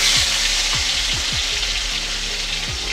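Chopped garlic hits hot mustard oil in a wok for chili chicken, producing a loud, continuous close-up hiss of frying with a few low knocks underneath and no voices.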